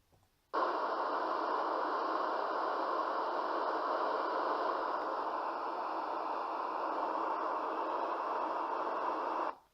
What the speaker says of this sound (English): I'll start this for a minute. This is white noise, pink noise, and brownie.